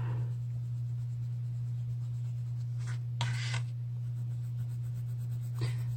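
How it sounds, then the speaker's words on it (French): Colouring pencil rubbing across a page of a colouring book while filling in green skin, soft scratchy strokes in a few brief bursts over a steady low hum. "J'aime bien colorier une peau verte."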